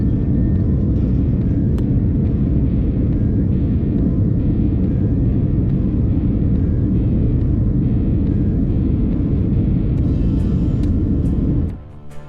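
Steady, loud broadband roar of a Qatar Airways airliner cabin in flight, constant and unbroken for most of the span before dropping off abruptly near the end.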